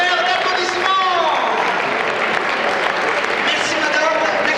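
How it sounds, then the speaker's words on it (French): Audience applause at a gala evening for a village Saint Vincent festival in Fleury d'Aude, a dense, sustained wash of clapping with crowd noise and faint voices mixed in throughout. "je crois qu'on peut vous remercier sous un tonnerre d'applaudissements"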